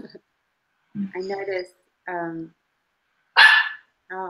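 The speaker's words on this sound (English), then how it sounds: "noticed Puppy barking in the kitchen." A puppy barks in a kitchen, a few separate sharp yips and barks spaced by silence, fairly close and clear.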